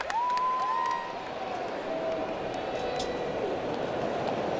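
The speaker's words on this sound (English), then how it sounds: "Another big crowd in here tonight." A big crowd murmurs and cheers faintly inside the ballpark at a Padres vs Diamondbacks regular-season baseball game, a steady distant hubbub with a brief whistle-like tone early on.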